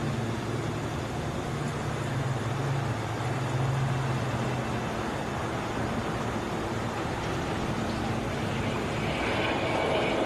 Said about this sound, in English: Just waiting for a plane to take off, that's all